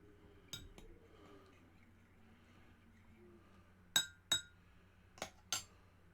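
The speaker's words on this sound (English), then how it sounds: "Just stir my cider." A spoon stirs cider in a glass, giving a few soft clinks early on, then four sharper, brighter taps against the glass in two quick pairs. The sounds are quiet and close against a faint background hum.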